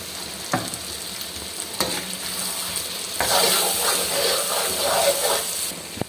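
Chicken karahi sizzles and fries in ghee while a spoon stirs and scrapes the pot. The steady frying hiss swells louder partway through, with occasional clanks.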